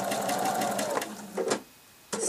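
A sewing machine runs at a moderate speed as it stitches a curved quilt block seam, a close and steady whir that pauses briefly and then starts again.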